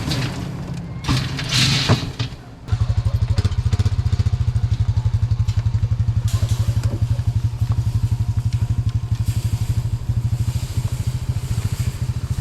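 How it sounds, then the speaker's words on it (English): A four-wheeler pulling a wagon runs with a steady, loud, rhythmic engine chug close by, starting after a brief clattering interval and continuing without pause to the end. "I'm gonna go get the four-wheeler with the wagon"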